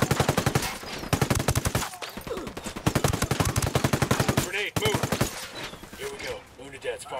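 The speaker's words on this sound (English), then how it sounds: "firing on the cartel. Frag out." Automatic rifles fire in rapid, loud bursts during a firefight with the cartel in Ghost Recon Wildlands, with dense rhythmic volleys, brief pauses, and voices calling out between shots.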